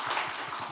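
Applause from an audience at a Seosan mayor's book concert, a brief, dense patter of many hands clapping at steady level.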